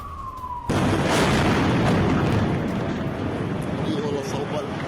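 An Israeli air strike in Al-Nasir, Gaza, a sudden loud blast that cuts off a rising whistle and then rolls on as a broad, sustained roar that slowly fades.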